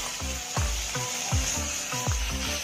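A paste of cumin, coriander and mustard frying in a pan, a steady loud sizzle broken by rhythmic thuds and scrapes of a spatula stirring, roughly five strokes in under three seconds.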